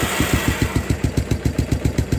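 The small single-cylinder engine of a 1986 Kawasaki Bayou ATV idles close by, fitted with a GM HEI ignition module as its CDI, its fast even putter loud and steady throughout.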